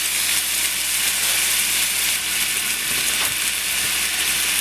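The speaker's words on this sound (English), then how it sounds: "once you got your ground beef into the skillet, and all we do now is just stir it up, get it separated" Ground beef browning in a skillet while being stirred and broken apart, giving a steady, close, even sizzle with faint scraping from the utensil throughout, no voices.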